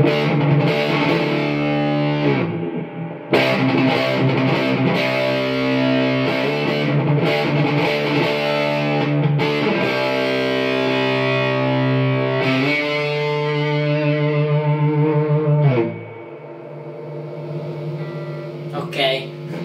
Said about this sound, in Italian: l'unico effetto che abbiamo sul valvolare, almeno su questo, è il riverbero